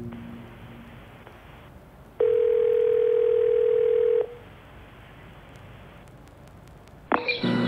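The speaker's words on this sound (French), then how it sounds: "j'appelle Anowan, on va éclaircir ça, restez en ligne" A steady telephone dial tone sounds for about two seconds in a French audio drama, then cuts off, followed by quiet room tone and a brief click of pickup near the end.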